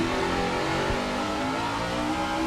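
Terry Labonte's NASCAR stock car at Sonoma, its engine droning in a steady, loud, rough mid-pitched tone as the throttle is eased on, with no speech over it.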